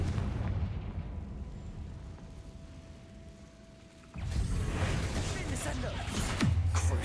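Confringo blasting spell from the video game Hogwarts Legacy, a sudden loud explosive burst cutting in after a quieter stretch, followed by sustained rumbling crackle and debris, with game sounds around it.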